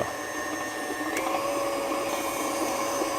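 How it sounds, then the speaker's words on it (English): An electric hand mixer beats butter and granulated sugar for coffee cake, a steady, moderately loud motor whir with a constant tone and a small clatter midway, no speech. "You can let the mixer run for a minute or 2."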